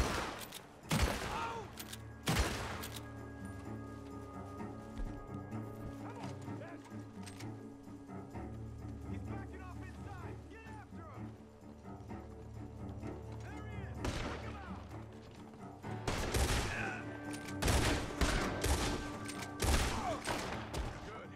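Bursts of gunfire from an exploding bomb crackle in short volleys amid a busy Red Dead Redemption 2 game soundscape, with voices talking over parts of it.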